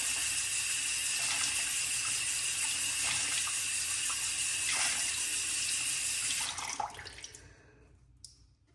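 Water runs steadily from a bathroom tap as a Mojo Handcrafts Kerrville shaving brush with a Mojo Maker knot is rinsed under it, a constant close hiss with small splashes, cut off near the end leaving faint drips.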